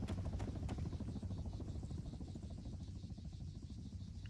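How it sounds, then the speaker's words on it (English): An attack helicopter in the video game Arma 3 flies nearby, its steady rotor chop and engine whine holding loud and continuous throughout with faint clatter, and no voices. "there's an attack chopper"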